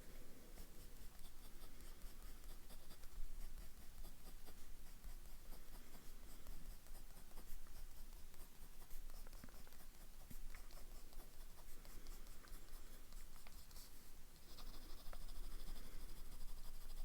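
A medium-nib fountain pen scratches steadily across paper, a continuous faint, close rasp with small strokes and pauses, no voices.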